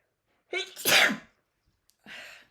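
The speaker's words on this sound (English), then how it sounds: "I'm going to sneeze again." Two sneezes from an adult at close range, a loud drawn-out one followed about a second later by a shorter, softer one, in an otherwise quiet indoor room.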